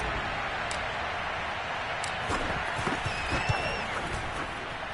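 A large stadium crowd roars in a steady, dense wash after a Baltimore Ravens touchdown in a football game, distant and sustained, with faint whistles above it.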